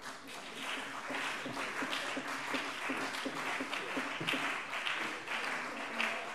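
Sustained applause fills a plenary session of the Hessian state parliament right after a bill amending the school law is passed, a dense, steady wash of many hands clapping with no pauses throughout.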